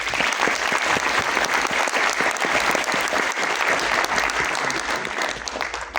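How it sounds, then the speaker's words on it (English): A conference audience applauds for a panel speaker, dense steady clapping that fills the room before tapering slightly at the end. "Please give him a round of applause"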